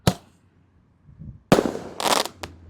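A 10-shot 1-inch Roman candle firework fires in sharp, loud pops, one near the start and then a burst of bangs and crackles later on, with a short thump at the end.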